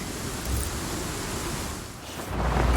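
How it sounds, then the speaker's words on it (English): Thunder from an approaching storm in the video game Just Cause 4: a dense, steady rumble with a heavier low roll swelling near the end, with no voices. "Storm's rolling in."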